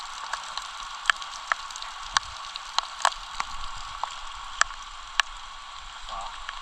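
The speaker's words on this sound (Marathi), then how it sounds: "पाऊस पडतोय" Steady rain falls in the Kokan region of Ratnagiri, a soft continuous hiss with scattered sharper drips and taps throughout, fairly faint, with no talking.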